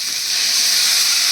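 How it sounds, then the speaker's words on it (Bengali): Water hits a hot pan of mung dal and erupts into a loud, steady steaming sizzle, a broad hiss that continues without a break, close by and with no voices. "এবার আমি দিয়ে দিচ্ছি এর মধ্যে জল।"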